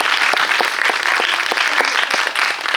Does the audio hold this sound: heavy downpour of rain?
no